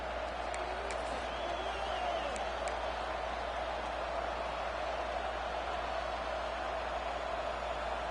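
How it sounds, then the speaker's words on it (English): Stadium crowd roar in a college football video game, a steady dense wash of noise with a few faint whistles or whoops poking through, continuous and loud for the whole stretch. "This crowd trying to make life miserable for this offense"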